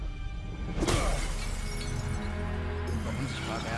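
Glass shattering in the video game Knack 2: one loud crash with a sharp burst, then a sustained ringing tail of scattered shards, all under game music and a speaking voice.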